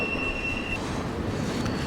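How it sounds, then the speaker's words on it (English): CSX intermodal freight train of single stacks and piggybacks rolling past near Duval, Jacksonville, with loud steady rumble and high metallic wheel squeal. "This Jax to North Bergen, New Jersey hotshot is all single stacks and piggybacks"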